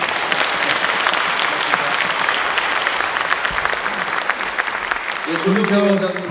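Sustained applause from a sizable audience at a talk-show style panel event fills the room, steady and dense throughout, with a voice beginning to speak faintly near the end.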